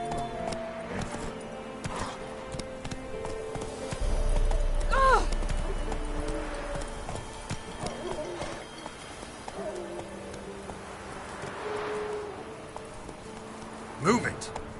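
Roach the horse running in The Witcher game, a steady clip-clop of hooves under ongoing talk, with a low rumble partway through and a sharp sound near the end.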